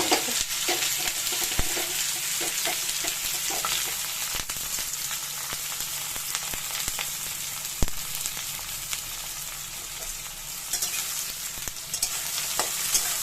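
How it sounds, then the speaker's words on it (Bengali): Chopped onion and garlic fry in hot oil in a pan for a light potol-begun dish, giving a steady close sizzle throughout with a few sharp crackles and no talking. "পেঁয়াজটা একটু ভাজা ভাজা ভাজা ভাজা হবে"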